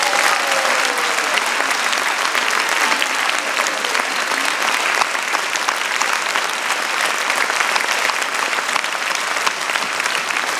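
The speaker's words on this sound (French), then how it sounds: "Je voudrais un tonnerre d'applaudissements pour Martine Vassal." A crowd at a mayor's New Year reception in Marseille gives loud, sustained applause, a thick unbroken roar of clapping that holds steady throughout, with a voice briefly audible near the start.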